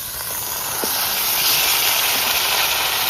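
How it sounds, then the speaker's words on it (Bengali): Meat hitting hot oil at an outdoor picnic cookout in a sal grove, a loud, steady broadband hiss and sizzle that rises slightly and holds throughout, with no talking. "মাংসগুলো দিয়ে দেবো তেলের মধ্যে"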